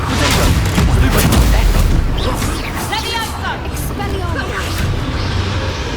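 The Confringo explosion spell in Hogwarts Legacy sets off loud, rumbling booms with crackling blasts that fade into a busy battle din, while a voice speaks over it.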